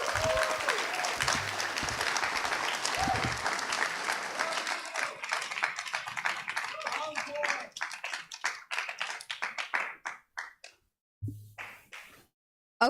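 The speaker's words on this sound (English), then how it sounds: "one more round of applause" An audience at an ACM open house applauds with dense clapping that thins into scattered individual claps and fades to a few last claps near the end.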